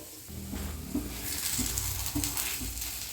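Kuzhi paniyaram sizzles steadily in a pan as it is turned over, with small scraping clicks and taps from the flipping, close up.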